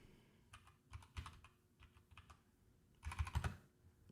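Quiet bursts of typing on a computer keyboard, rapid clicky keystrokes in clusters with short pauses, with a denser flurry near the end, heard close and alone.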